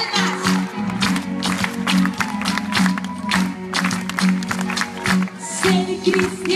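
Audience clapping in rhythm at a live Christian worship concert, steady beat of hands over music, with a voice calling out amid the band.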